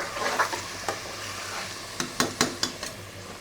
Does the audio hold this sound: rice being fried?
yes